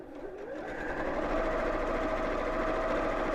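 A sewing machine runs steadily while back stitching a fabric seam, a close, continuous mechanical whir that builds slightly at the start and holds even throughout.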